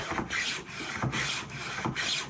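A Stanley No. 48 hand plane rasps along a wooden board cutting a tongue and groove joint, with repeated close-up scraping strokes of shaving wood in a steady back-and-forth rhythm.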